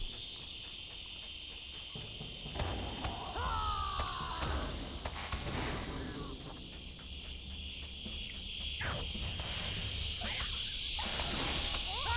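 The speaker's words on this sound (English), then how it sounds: "I like the sound, the cicada sounds here." Cicadas from the Dead Marshes in the LOTRO video game keep up a steady high buzzing drone throughout, with faint chirps and game ambience running under it and no talk.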